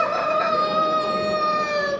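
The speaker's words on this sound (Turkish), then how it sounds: "Şampiyon olmuş horozumuz." A champion rooster at a fair lets out a single loud, sustained crow close by, holding its tone for about two seconds with no talking over it.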